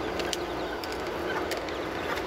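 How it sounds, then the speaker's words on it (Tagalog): Bantam chicken chicks chirp and peep softly and continuously over a low, steady background, with a few brighter calls standing out. "Medyo malalaki na din pala itong mga sisiw na to"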